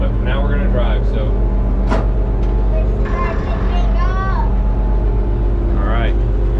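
MM A4T tractor engine running as it sets off, a loud steady low rumble throughout, with people talking over it.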